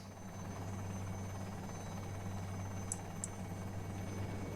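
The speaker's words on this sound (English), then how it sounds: "Helicopter?" A helicopter in a video game drones faintly and steadily, a low continuous rotor hum with no voices over it.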